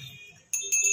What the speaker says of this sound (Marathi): घंटी कोण वाजवते?